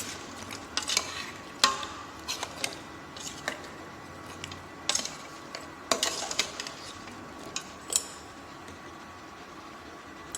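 Carrots stirred in a stew pot, repeated soft knocks and scrapes of a spoon against the pot over a low simmering hiss, close by and without speech.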